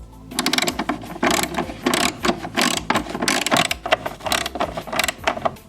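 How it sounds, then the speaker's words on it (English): A ratchet fitted with a 10mm deep well socket loosens the battery tie-down bolts on a Mazdaspeed3, giving bursts of close, loud clicking ratchet strokes in a steady repeating rhythm, with no voices. "I'll be using a deep well 10mm socket and ratchet combo."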